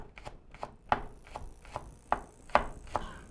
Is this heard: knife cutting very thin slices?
yes